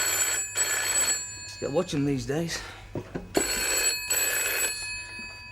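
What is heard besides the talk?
telephone ringing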